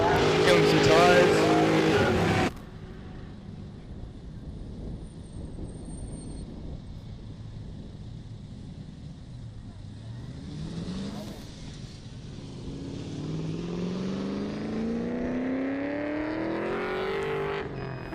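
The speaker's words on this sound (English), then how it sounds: "Just doing some laps, killing some tyres." A drift car laps a circuit at a drifting event, its engine rising and falling in long sweeping revs with tyre squeal, passing from faint to closer and louder, with talk over it at the start.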